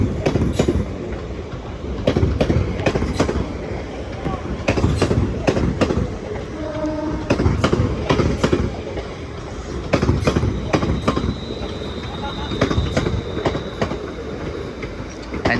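A Class 350 electric multiple unit passes through Crewe on the West Coast Main Line, loud and close, with rhythmic clickety-clack of wheels over rail joints, a brief wheel squeal and a steady rushing roar.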